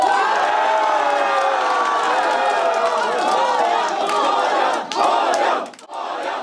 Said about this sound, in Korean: 밤새 TV를 지켜보던 캠프에서는 환호성이 터져 나옵니다.